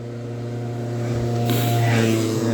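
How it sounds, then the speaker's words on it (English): A moped engine drones and revs nearby, a buzzing harmonic hum that builds steadily louder and rougher over a couple of seconds, heard alone without voices. "Yeah, mopeds."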